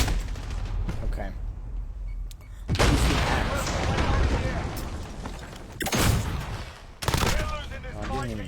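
Explosions and gunfire fill a Modern Warfare 2019 match, with loud booming blasts and bursts of shots striking in waves, including big hits at roughly the start, middle and near the end, over constant battle rumble.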